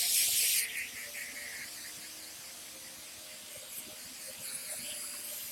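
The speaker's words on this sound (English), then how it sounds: "Take my Super 77 spray." A short burst of Super 77 aerosol adhesive spray hisses at the start, bright and close, used in leather bag making, then fades into a quiet, steady room background.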